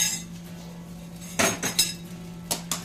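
A spoon clinks and scrapes against a steel mixer jar a few times as cooked green moong chutney ingredients are scooped in, faint and close over a low steady hum.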